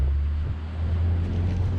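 Deep, steady engine drone from a Ferretti 450 motor yacht with twin 550 hp Cummins engines as the throttle is opened, a strong low rumble that holds throughout, with wind and water noise over it.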